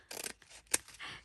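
Scissors snip through invitation paper for a fancy ribbon-closure embellishment, a few quick close cuts with one sharp crisp snip standing out amid soft rustling, with no voices.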